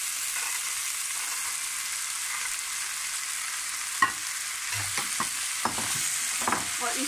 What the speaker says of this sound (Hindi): अच्छी तरह मिक्स करने के बाद अब हम इसमें बीन डालते हैं।